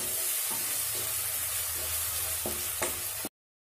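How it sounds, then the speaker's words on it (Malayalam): Ginger garlic paste sizzles in a pan for green chicken while being stirred. The frying hiss is continuous and fairly loud, with rhythmic scraping strokes, and it stops abruptly at the end. "ഇനി ഇതെല്ലാം കൂടെ ഒന്ന് നന്നായി മിക്സ് ചെയ്ത് കൊടുക്കണം"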